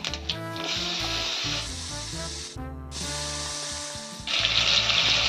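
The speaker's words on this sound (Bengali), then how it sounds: "তেলের মধ্যে একটু পাঁচফোড়ন দিয়ে দেব, দিয়ে এবার আলুটা ভেজে নেব।" Panch phoron and potatoes fry in hot oil with a steady, close spitting hiss that swells louder toward the end, while background music plays throughout.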